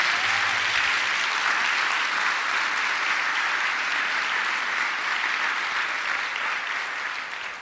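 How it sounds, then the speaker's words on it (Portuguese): Audience applause at a religious gathering, a dense steady wash of clapping that holds loud for about seven seconds before starting to fade. "Então aplauda a Nossa Senhora aí, porque eu quero ver você aplaudindo ela."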